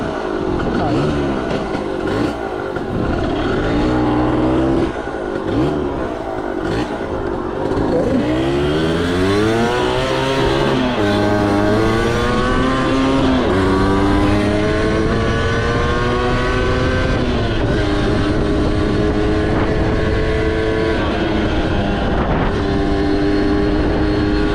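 A 1971 Yamaha Mini Enduro motorcycle runs close by on a first ride, its small engine revving up and down through rising, shifting pitches across the whole stretch, with some talk mixed in.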